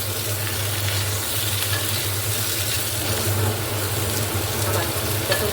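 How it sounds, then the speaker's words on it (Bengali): Sliced pointed gourd, potol, frying in oil in a pan, a loud, continuous close sizzle with a steady low hum beneath it, no talking. "আমার পটলগুলো হালকা করে ভাজা হয়ে গেছে"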